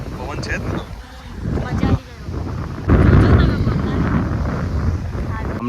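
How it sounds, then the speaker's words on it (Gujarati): Strong wind at the beach in Daman buffets the microphone in rough gusts that grow louder and steadier partway through, with voices faintly mixed in. "પવન છે જ ને."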